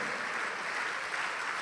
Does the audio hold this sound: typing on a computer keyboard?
no